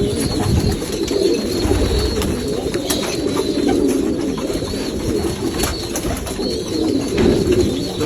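Pigeons cooing repeatedly in low, rolling calls, close and fairly loud, with a steady background hum and occasional light rustles.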